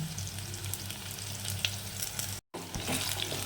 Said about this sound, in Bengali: আলুটার ভিতরে সোয়াবিনটা দিয়ে দিচ্ছি সোয়াবিনটা আমি সেদ্ধ করছি না একটু ভেজে নেবো তেলে